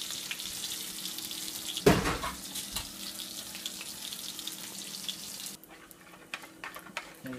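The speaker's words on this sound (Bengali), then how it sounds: "যে তেলে মাছ ভাজা হচ্ছে সেই তেলটি" Hot oil sizzles in a kadai after frying hilsa fish, giving a steady, close crackle with a sharp clatter near the start. The sizzle grows quieter toward the end.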